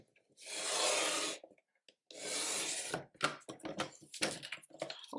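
A paper trimmer slices cardstock for a scrapbook layout: two smooth, rasping blade strokes close up, followed by a scattering of light clicks and taps.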